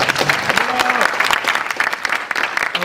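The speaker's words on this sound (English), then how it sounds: "Let's give one more round of applause." Applause from the audience at the opening session of a community media expo and awards, steady dense clapping throughout with a voice briefly audible over it.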